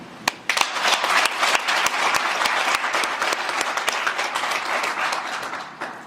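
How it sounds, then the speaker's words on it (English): Applause fills the hall for school staff at a learning centre graduation, a dense, steady wash of many hands clapping with a few sharp claps standing out, loud and continuous throughout. "Pause with me for a moment so we can applaud this awesome staff."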